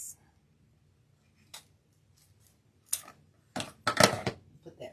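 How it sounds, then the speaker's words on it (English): Scissors snip through deco mesh ribbon for a pink snowman Candyland wreath, a few crisp close cuts and crinkling rustles after a quiet stretch, with faint bits of voice. "And we're going to cut this."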